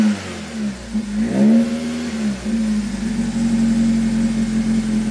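A 1987 Toyota MR2 engine after a warm start, idling up close then revving sluggishly, with a slow rise and a steady, loud hum afterward.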